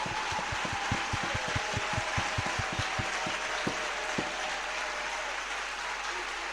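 Church congregation clapping hands in praise at an opening session, a fast run of loud, close rhythmic claps over a dense crowd din that then fades into general noise.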